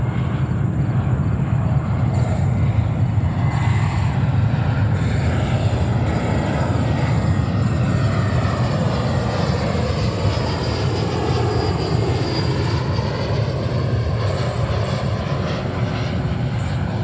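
A JetBlue airliner at New York's JFK Airport, a loud, steady engine roar held for the whole stretch, broad and sustained with a slow shift in tone as it passes.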